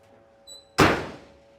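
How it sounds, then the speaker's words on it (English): Door of a 1970 Chevrolet Chevelle SS swinging shut with a single solid thunk, close and fairly loud, preceded by a faint brief chime and fading quickly after the impact. "look at how nicely the door closes to the rear quarter"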